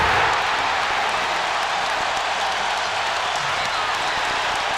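A basketball arena crowd cheering after a Chicago Bulls–Indiana play involving Jordan and Pippen, a broad steady roar of voices and applause holding at an even loudness throughout.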